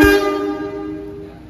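A passenger train at the dead-end track in Surabaya, with a short horn-like toot opening over a steady tonal engine drone that fades gradually as the train is shunted slowly backwards.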